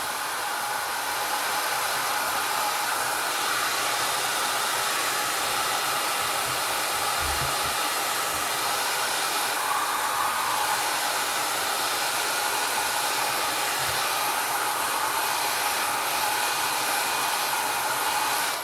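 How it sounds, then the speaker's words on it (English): A hair dryer blows continuously at full power over alcohol ink, a loud, steady rushing whoosh that never lets up. "Now your blow dryer will move your ink around and also dry at the same time."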